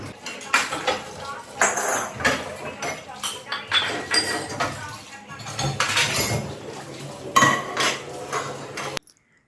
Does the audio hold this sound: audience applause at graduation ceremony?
no